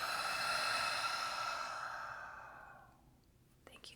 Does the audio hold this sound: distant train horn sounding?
no